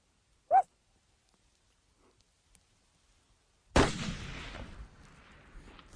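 A single rifle shot while hunting mule deer in South Dakota: one sharp, loud crack followed by a long rolling echo across open country, after an earlier brief animal bark call and near silence.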